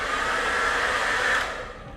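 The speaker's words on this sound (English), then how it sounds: "Hair dryer. Full size." A full-size hair dryer in a Norwegian Prima inside cabin blows steadily with a close, even hiss, then tapers off as it is switched down near the end.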